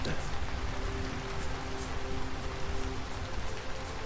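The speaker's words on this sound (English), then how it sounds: "And back to rain as I descend." Steady, dense rain hiss in the video game Vintage Story fills the scene, with a low rumble and faint sustained tones running underneath.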